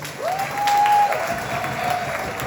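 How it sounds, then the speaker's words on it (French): Gala audience applauding after a dance group's performance, steady crowd clapping that swells midway, with a faint tone running through it. "Est-ce qu'on peut applaudir encore pour Authentique,"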